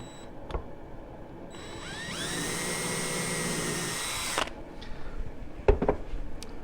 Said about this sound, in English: use caution when drilling that you don't go through your other side